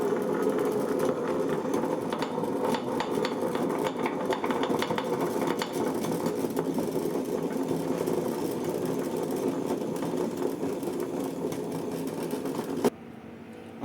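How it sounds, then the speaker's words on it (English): An electric grinder churns soaked urad dal into batter, a steady mechanical hum with constant rattling and rumble that runs evenly for about thirteen seconds before cutting off abruptly. "I've ground it for 10 minutes and the batter is ready."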